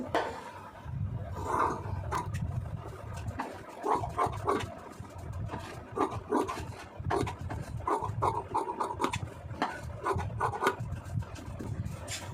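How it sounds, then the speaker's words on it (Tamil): Scissors cut through blouse fabric to shape an armhole, producing close, repeated crisp snipping and rasping strokes in an uneven rhythm, with no talking. "இப்போ நான் அதை அப்படியே கட் பண்ணி காமிக்கிறேன் உங்களுக்கு"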